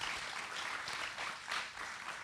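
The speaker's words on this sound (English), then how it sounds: "Can we give these guys a round of applause?" Church congregation applauding after a Father's Day interview, a short stretch of soft, diffuse clapping from many hands, fairly faint and distant, swelling slightly in waves.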